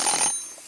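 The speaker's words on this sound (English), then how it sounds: "Set a timer." An electronic kitchen-style timer gives a short burst of high beeping while being set during a hair smoothing bath treatment, close and fairly loud, then quickly fades.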